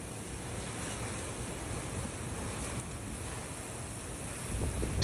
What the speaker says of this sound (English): Still quite gusty and quite dangerous to be out in